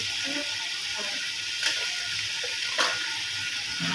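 Spices with turmeric sizzle in a frying pan, a steady close frying hiss with a couple of brief spattering bursts.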